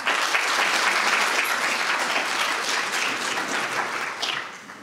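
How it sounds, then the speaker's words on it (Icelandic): A seated audience at a talk on innovation support gives sustained applause, a dense wash of many hands clapping that stays full and steady before easing off at the end. "Gefa hann gott klapp."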